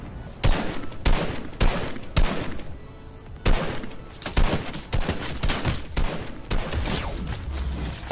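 Rapid bursts of gunfire in a shooter video game, sharp loud shots in quick clusters with brief pauses between volleys, continuing through the whole stretch.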